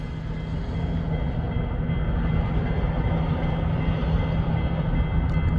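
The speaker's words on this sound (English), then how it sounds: "we have a eastbound coming. Looks like a loaded coal drag." A loaded eastbound coal train on a line in Fremont, Nebraska rumbles past loudly and steadily, a heavy continuous roar of cars at track speed with no talk.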